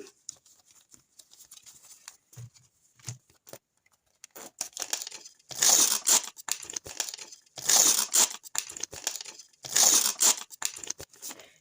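Paper surprise packet from a Hello Kitty scream-themed collection being torn and crinkled open up close, with soft rustles at first and then three loud bursts of tearing and crumpling, no talking.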